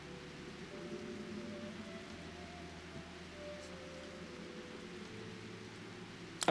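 Soft, steady rain patters as a faint, even wash with a low hum beneath it, ending in a brief sharp clatter.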